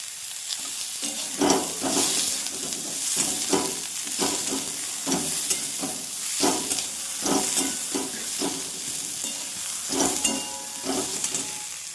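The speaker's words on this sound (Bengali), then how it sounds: "এবার দিচ্ছি বিন। গাজরটা একটু ভাজা ভাজা হয়েছে" Carrot and beans frying in a pan for a dalia khichuri, with a steady sizzle broken by repeated stirring scrapes at a fairly regular rhythm, close and clear, no talking.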